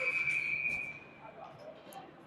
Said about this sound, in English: the referees are blowing the whistle down